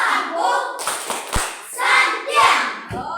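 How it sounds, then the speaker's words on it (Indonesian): A group of children claps the rhythmic Tepuk santian pattern in a classroom, with loud, close bursts of hand claps in a patterned sequence. "Tepuk santian dulu untuk kita semua."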